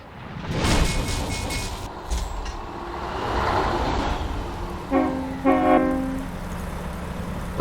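Modded truck horn on a Mack in American Truck Simulator blares in short blasts, first a loud train-style horn, then a second tooting blast, over steady engine and road rumble.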